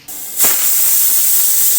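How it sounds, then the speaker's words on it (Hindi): A pressure cooker on a gas stove cooking chickpeas lets off a loud, steady steam whistle. It starts with a sharp burst and then holds as a continuous high hiss. "कुकर में सीटी आ गई है।"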